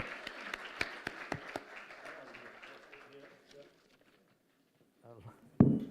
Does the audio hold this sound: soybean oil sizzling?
no